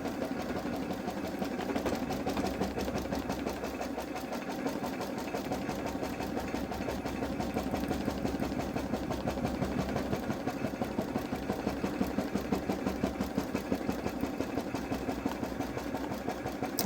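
A Babylock Solaris embroidery machine stitches an appliqué bow onto a sweatshirt, a steady, rapid mechanical whir and needle chatter running nonstop, close and even.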